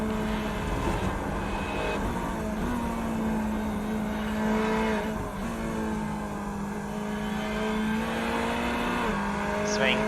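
Onboard engine note of a GT3 race car lapping Silverstone in iRacing, a steady drone with gear shifts and revs rising and falling, continuous and close throughout.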